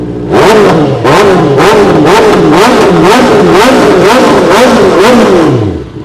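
A sport motorcycle with an aftermarket exhaust, a bike such as a used Yamaha YZF-R6, revs hard in a close, loud run of repeated throttle blips. Sharp rising and falling roars follow one another, with crackle and clatter between them.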